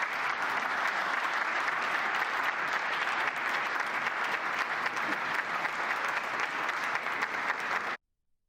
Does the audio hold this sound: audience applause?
yes